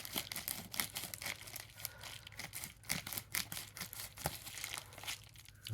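Close, quiet crinkling and rustling as a mailed package envelope is cut open and handled, irregular paper and plastic crackles with small snips and no talking.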